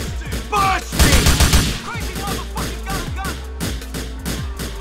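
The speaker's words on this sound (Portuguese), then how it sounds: "O cara tá atirando lá de dentro, velho." Gunfire in Grand Theft Auto IV, with a sniper firing from inside a building: a dense burst of rapid shots around the one-second mark, then scattered single cracks over steady game noise, with people talking excitedly throughout.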